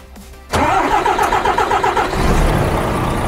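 A rebuilt DAF CF truck with an MX-11 diesel engine cranks and fires after a top-end rebuild and camshaft change, jumping from near quiet into a loud, steady idle that stays close and rumbling to the end.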